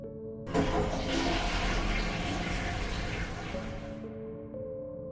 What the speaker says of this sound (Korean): 제가 화장실 문을 열자마자 좌변기 물이 쏴 하고 내려갑니다.